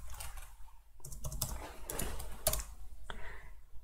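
Someone types on a computer keyboard, producing a quiet, fairly continuous patter of key clicks with a few sharper taps, close by and with no talking.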